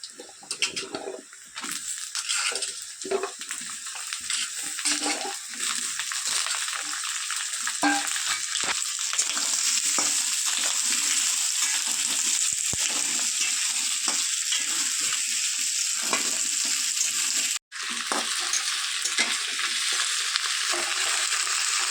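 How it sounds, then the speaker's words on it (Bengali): Diced potatoes sizzle and crackle continuously in hot oil with browned onions, stirred now and then, a loud steady fry with a brief break near the end. "আলুটা তেলের মধ্যে দিয়ে হালকা ভাজা হয়ে গেছে"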